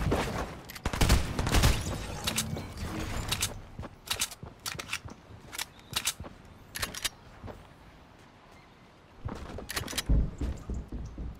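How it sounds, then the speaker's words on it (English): A tactical shotgun fires in a video game shootout, loud sharp blasts in irregular bursts with other gunfire mixed in, a brief lull, then more shots close up. "Tactical shotgun has been whipped out."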